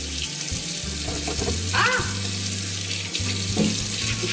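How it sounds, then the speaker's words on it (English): Tap water runs into a sink while hands are washed, a steady close hiss of flowing water with small splashes and soft rubbing over it throughout. "Let's wash our hands first."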